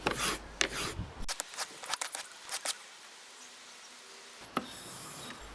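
A plane blade is stropped to remove the wire edge, giving close, repeated scraping rubs in short strokes, then a pause and a final few rubs.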